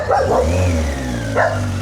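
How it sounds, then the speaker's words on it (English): A dog barks a few times near the microphone beside an old-school classic car in a garage, with a low engine-like rumble running underneath the short bursts. "Don't know what he's barking at."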